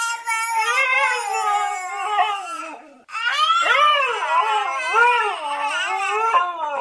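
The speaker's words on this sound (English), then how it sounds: "the husky and the baby go at it imitating each other again." A husky and a baby trade sounds, the dog's long wavering howls and the infant's crying blending into one continuous, loud, close vocal duet, with a brief pause midway before both resume.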